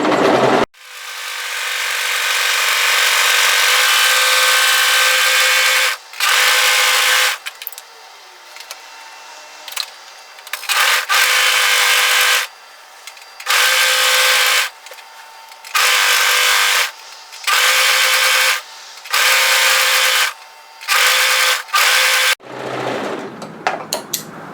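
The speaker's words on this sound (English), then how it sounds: "I'm just going to overlock and plain stitch it." An overlocker stitches and trims hoodie fabric in a steady, high-pitched mechanical whir, running in long bursts and then shorter repeated spurts with brief pauses, loud and close.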